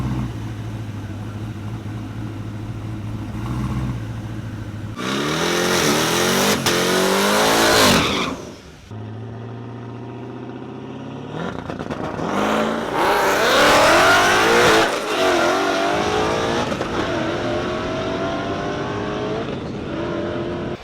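Loud engines roar through repeated hard accelerations, revving high with gear changes, then a second full-throttle run, as a twin turbo Camaro ZL1 drag races a Whipple Mustang.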